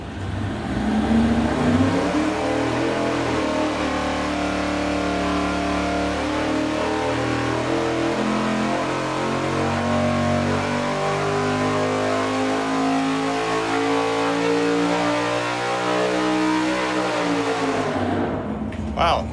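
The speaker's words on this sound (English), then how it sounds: "here we go with the long rod engine." A big-block Chevy V8 with long 6.800-inch connecting rods revs hard and holds high RPM for most of the clip, loud and close, then winds down at the end.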